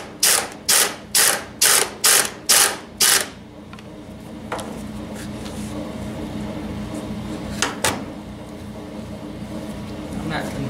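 A hand ratchet clicks in seven quick, even bursts while turning a bolt on a Harley-Davidson Twin Cam flywheel, followed by a quieter workshop hum with a few scattered clicks and taps.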